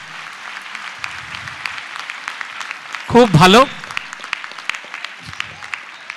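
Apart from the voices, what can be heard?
audience applause for the drama directors and their team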